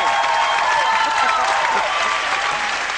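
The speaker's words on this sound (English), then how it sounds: "are you clapping?" A studio audience claps loudly and densely, a sustained wash of many hands close to the microphone lasting the whole stretch, with voices faintly audible underneath.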